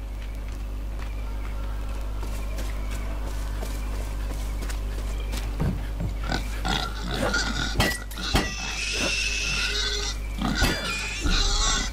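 Pigs grunt and squeal in Far Cry 5 over a steady low game hum, scattered snorts building into louder, busier bursts with clattering knocks toward the end.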